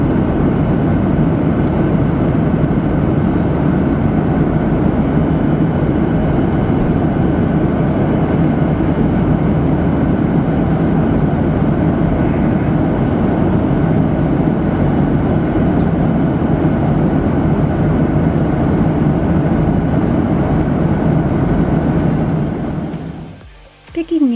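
Steady, loud roar of aircraft engines heard from inside the cabin of a China Eastern Airlines plane after takeoff, unbroken for over twenty seconds before dropping away abruptly at the end.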